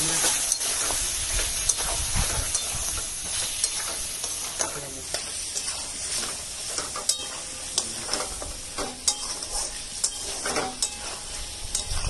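Chicken in yogurt is stirred in a hot pan, a steady hissing sizzle with repeated spoon scrapes and knocks against the pan, close and fairly loud.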